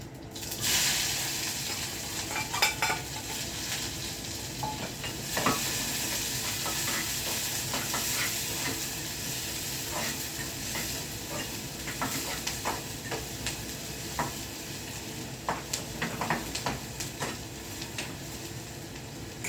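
Onion and cumin frying in a pan for a curry, producing a long, steady nearby sizzle and hiss with repeated scraping and tapping of a spoon throughout, no one speaking.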